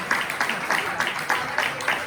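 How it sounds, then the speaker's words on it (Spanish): Audience applause at a Spanish-language finance talk, a steady run of rhythmic clapping from a group, moderately loud and close throughout. "les dan un aplauso porque ellos fueron merecedores de ese regalo"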